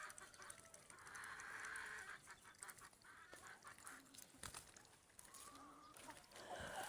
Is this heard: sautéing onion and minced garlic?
no